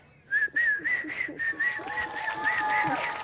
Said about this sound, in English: All you did was whistle and dance.